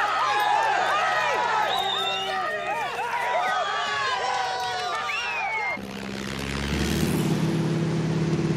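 Voices chatter over a faint background, then the low steady drone of a propeller aircraft takes over, growing louder toward the end.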